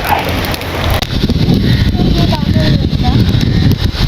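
Turmeric frying in hot oil in a pan for a Palakkad-style chicken curry, giving a steady, dense crackling sizzle that runs close and loud throughout.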